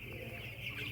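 Young poultry chickens in a farm shed cluck softly in a brief, faint, continuous murmur of calls.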